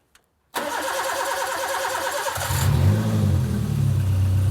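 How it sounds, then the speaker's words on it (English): A Suzuki van engine cranks and catches on its first start after an engine rebuild, then settles into a loud, steady idle that deepens as the revs rise, close by. "So I'm about to flick the key for the first start."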